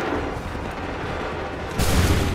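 A volley of soldiers' musket fire in the video game Assassin's Creed 3, a dense rumbling blast over noisy battle ambience that swells into a heavier boom near the end.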